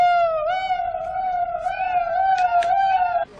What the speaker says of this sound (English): Can I run the siren?